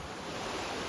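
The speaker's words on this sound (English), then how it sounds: "So let me show you this beautiful creek." A creek flows in a steady, broadband wash of running water close by, continuous and unbroken through the short moment with no other sounds.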